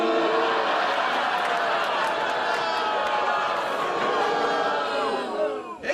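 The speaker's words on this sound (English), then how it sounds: "What is everyone booing at?" A live studio audience reacting with a sustained, loud wash of crowd noise over a Star Trek uniform, steady for several seconds before tapering off.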